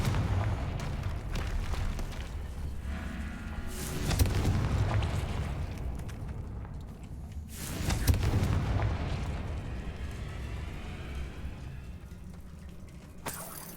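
Loud blasts from the Confringo fire spell in Hogwarts Legacy, with several booming explosions and crackling bursts spaced a few seconds apart during combat.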